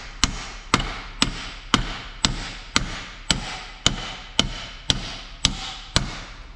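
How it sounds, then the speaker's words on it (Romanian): A hammer strikes the steering knuckle pivot of a Ford Transit, eleven sharp metallic blows at a steady rhythm roughly every half second, close and loud with a short ringing decay after each. "După care lovim cu ciocanul."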